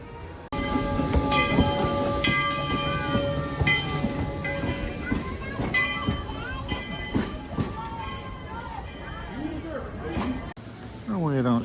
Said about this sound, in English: We've got a train coming.